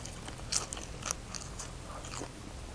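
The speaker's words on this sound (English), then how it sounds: "Nice crunchy stem on that." Someone bites into a crunchy raw spinach stem picked from a garden bed, giving two sharp crisp crunches followed by softer chewing, close and quiet against faint outdoor background noise.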